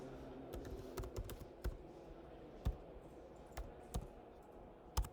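Typing on a computer keyboard, a series of crisp keystrokes with uneven gaps, close but fairly quiet against a soft background hum, no talk.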